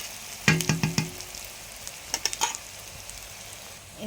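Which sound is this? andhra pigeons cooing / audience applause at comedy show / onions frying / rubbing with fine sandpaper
onions frying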